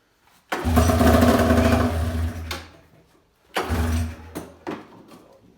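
An XCR race snowmobile engine is cranked on a first start attempt. A loud, close mechanical churning runs for about two seconds, then a second, shorter burst of cranking follows without settling into a steady idle.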